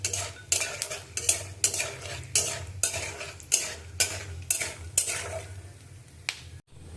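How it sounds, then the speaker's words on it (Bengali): Peanuts stirred and frying in a pan, with a repeated series of sharp scraping strokes of a utensil against the metal over a low steady sizzle, close and fairly loud, ending in a brief pause. "একটু বাদাম দিলাম, বাদামটা একটু ভেজে নেবো।"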